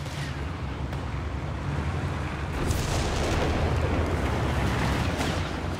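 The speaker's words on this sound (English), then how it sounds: "observer barrage" An observer artillery barrage in the video game Company of Heroes 3 rumbles as a dense wash of distant booms and blasts, building in intensity partway through and rolling on continuously.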